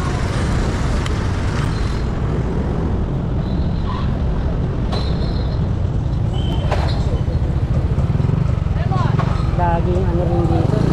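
Heavy road traffic near Quezon Bridge in Pasig, with a continuous rumble of passing vehicles and engines close by, occasional horn-like tones rising above, and someone talking over the din.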